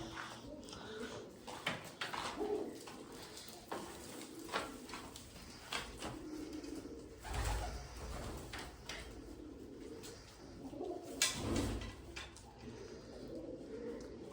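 Soft low cooing of caged pigeons, including Jacobins, repeated at irregular intervals amid shuffling and faint background noise.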